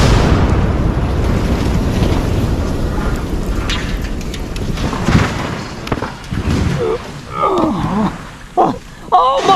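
An RPG rocket explosion in a cartoonish action scene, a loud rumbling blast that decays over several seconds, followed by shouted voices and further bursts.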